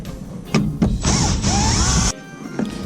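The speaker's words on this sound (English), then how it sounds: "At this point I'm using the drill" A power drill removing screws from a GE dishwasher whirs in one sustained burst of about a second, framed by a few short clicks and clunks of the tool handling nearby.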